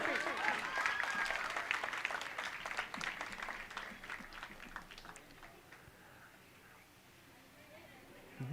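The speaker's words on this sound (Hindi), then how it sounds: "दर्शक ताली बजाएंगे, आप अभिवादन स्वीकार करेंगे।" Audience clapping at a school quiz contest, a dense burst of applause that gradually thins and fades to near silence over several seconds.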